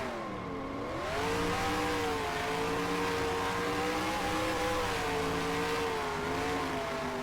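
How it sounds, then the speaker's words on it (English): Race car engine at Rockingham revving hard through a victory burnout, a loud, continuous roar with pitch rising and falling in waves, close and steady, no talk. "My first victory burnout."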